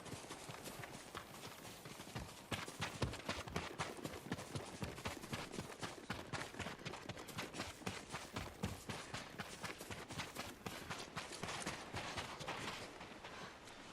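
Rapid galloping hoofbeats from horses in the samurai action game Ghost of Tsushima, a dense, continuous clatter that grows slightly louder after the first few seconds and runs steadily with no talk over it.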